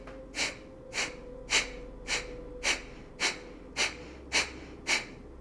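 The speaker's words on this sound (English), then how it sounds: "you take really short bursts of exhales while you pull your belly button back towards your" Kapalabhati yoga breathing: nine short, forceful exhales pushed out through the nose at a steady, fast rhythm of about two per second, close and clear with nothing else heard.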